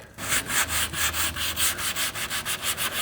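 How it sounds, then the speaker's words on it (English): Hand sanding of a car body panel with 320 grit sandpaper on a small block, a close, rhythmic series of rasping strokes, about five per second, steady and loud with no voices. "So I've got a little block here with some 320 grit sandpaper on it."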